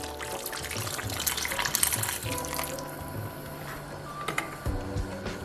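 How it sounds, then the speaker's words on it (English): Water poured into a cooking pot of curry oxtail with soft canned beans; a close, gentle splashing trickle runs for several seconds, fairly quiet. "I'm gonna add a little bit more water."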